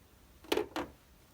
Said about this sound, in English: Now I'm going to take that little triangle off with my scissors.